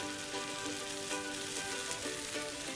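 Tomato fried rice cooking in a pan, a soft, steady sizzle and crackle throughout, fairly quiet and without talk.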